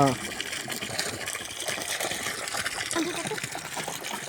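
A borewell pours water onto a farm field in a steady, dense rushing flow, constant in level from start to finish, with faint voices underneath.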